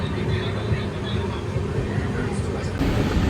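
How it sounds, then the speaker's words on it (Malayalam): Steady rumble of a moving train after leaving Dharmavaram railway station in the evening, a continuous loud broadband roar with no clear breaks, heard from inside the carriage. "അങ്ങനെ ധർമ്മവാരം റെയിൽവേ സ്റ്റേഷനിൽ നിന്ന് വണ്ടി എടുത്തിരിക്കുകയാണ്."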